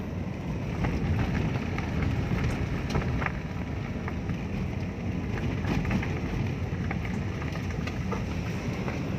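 Steady rain noise with a low rumbling wash and occasional crackles, constant and fairly loud, like rain heard from inside a moving vehicle.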